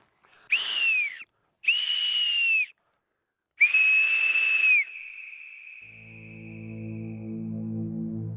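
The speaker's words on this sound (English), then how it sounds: "The sound from a whistle takes up less energy and travels farther than screaming" A survival whistle blows three loud, shrill bursts as a distress signal, the third held longest, close and clear in an otherwise quiet outdoor setting, followed by a low droning tone.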